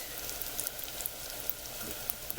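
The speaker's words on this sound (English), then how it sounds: "So you just put them in your fryer" Chicken wings frying in a few cups of oil in a home fryer, giving a steady, moderately quiet sizzle and crackle with small popping bursts throughout, no voices.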